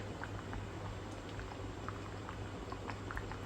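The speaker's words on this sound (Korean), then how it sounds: "이렇게 넣고 한번 끓이도록 하겠습니다" Vegetables with onion simmer at a rolling boil in a pot, a steady bubbling texture with scattered pops and crackles throughout, close and continuous with no talking.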